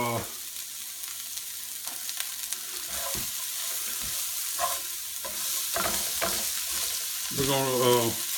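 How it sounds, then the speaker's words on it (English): Diced onion cooking in a pan over medium heat for chorizo pasta, a soft steady sizzle with occasional spoon stirs and scrapes, close by, with a brief voice near the start and end. "cook the onion till it's just about translucent. I got this on about a medium heat."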